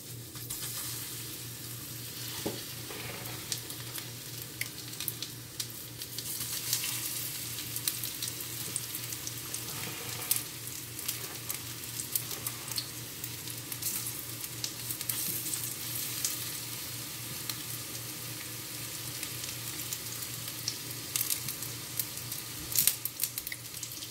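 Okra fritters fry in hot oil with a steady, crackling sizzle that runs unbroken for the whole stretch, with occasional pops and no talking.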